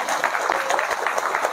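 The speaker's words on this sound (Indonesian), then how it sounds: "tepuk tangan dulu" A crowd claps together in a short burst, many hands producing a dense, even patter of applause at a moderate distance.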